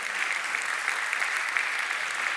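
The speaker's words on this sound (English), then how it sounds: "I think that on its own deserves a round of applause." An audience applauding at a YMCA World Council plenary session, steady dense clapping throughout without a break, moderately loud and even in level.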